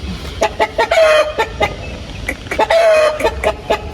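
Repeated calls of a Peruvian breed rooster with short clucks in quick bursts, close and loud, in two clusters across a few seconds.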